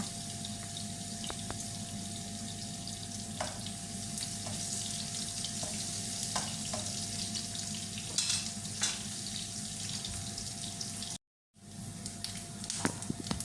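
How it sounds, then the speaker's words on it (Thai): Continuous sizzling of lemongrass frying in hot oil over medium heat, a dense crackling hiss with occasional sharp pops and a brief dropout near the end. "แล้วก็นำตะไคร้ลงไปทอดนะคะ"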